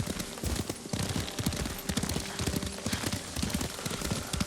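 Horse hooves clop in a quick, steady rhythm, as if at a trot, close and moderately loud, in the video game Ghost of Tsushima.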